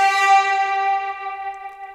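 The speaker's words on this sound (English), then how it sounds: "And then there is one sort of really long decayed chant" A long, decayed vocal chant with overdrive and reverb in a dance-track remix, holding a steady, bright, harmonic-rich tone that slowly fades and thins over two seconds.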